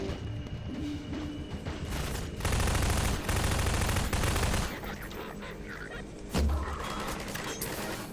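Submachine gun and shotgun fire from Combine soldiers in Half-Life 2, with rapid bursts and heavy blasts over engine rumble, loudest in the middle and near the end.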